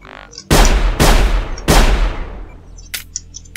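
Gunfire in the video game Sir, You Are Being Hunted: three loud, booming shots about half a second apart, each with a long rolling tail, followed by fainter clicks and clatter.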